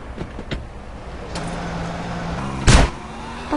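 A car in the video game GTA San Andreas: engine hum rising under a short door-like clunk and a loud burst near the end, with several clicks early on, no talking.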